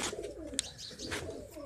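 Soft, low cooing from pigeons close by, with a faint chirp and light rustling in the background.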